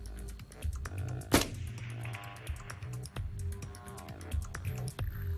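One sharp rifle shot cracks out during long range shooting, a single loud report followed by a dense clattery background of small ticks and rustles.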